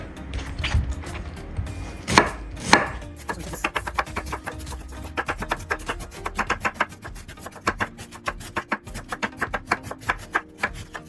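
A knife chopping cabbage on a board, rapid rhythmic cuts close by, building into a steady even chopping, with no talk.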